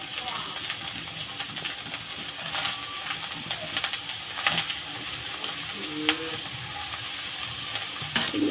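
Snake gourd and fried egg with onion and chili are slowly stirred together in a sizzling pan, a steady frying hiss with occasional spoon scrapes, while a person talks over it.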